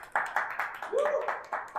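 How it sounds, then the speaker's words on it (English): An audience at a Cirque du Soleil backstage tour gives a brief round of applause in a few sharp bursts of clapping while a voice speaks over it. "Give me a round of applause."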